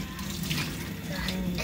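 Tap water runs steadily into a kitchen sink as something is rinsed until the suds are gone, a continuous close splashing hiss that holds through the whole stretch.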